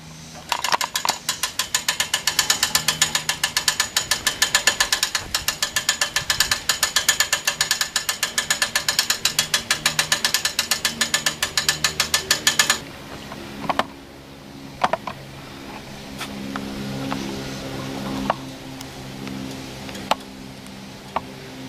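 A hand crank on a Missouri wind turbine tower base ratchets steadily as the tower is raised, a loud rapid run of clicks lasting about twelve seconds, then stopping, followed by scattered clanks and handling noises.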